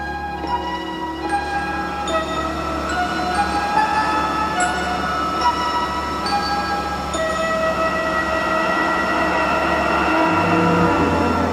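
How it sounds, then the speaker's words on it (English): Subway train rumbling steadily through an underground tunnel, a continuous loud roar with sustained tonal whine and a slight swell toward the end, no talk over it. "Trains under the ground."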